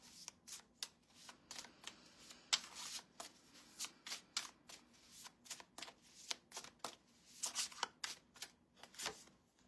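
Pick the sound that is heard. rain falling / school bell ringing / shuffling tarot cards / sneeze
shuffling tarot cards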